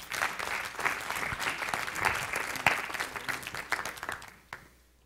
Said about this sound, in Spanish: Vamos a darle un aplauso a los voluntarios.